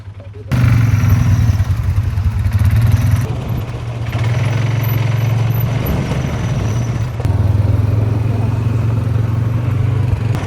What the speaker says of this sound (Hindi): तो यहाँ से हमारी ATV राइड शुरू होती है।